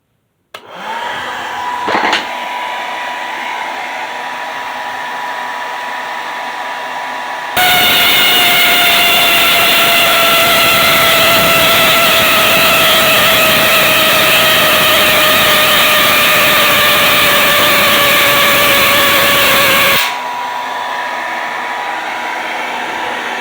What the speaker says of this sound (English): it works really well for driving a Tesla coil.